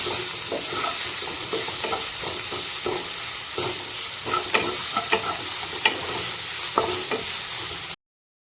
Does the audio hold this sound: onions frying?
yes